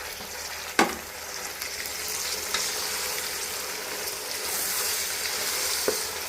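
Chopped tomato and green chili frying in a pan for Hyderabadi chicken dum biryani, a continuous close sizzle with a sharp clatter as the pieces go in and another knock near the end, no voices.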